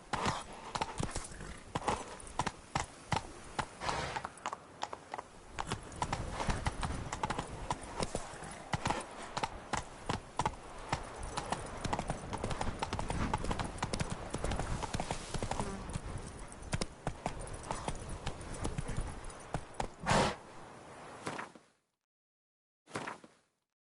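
Rapid, rhythmic hoof clip-clop of the horse Roach galloping in a video game, loud and steady for about twenty seconds with brief shouts over it, ending in a short near-silence.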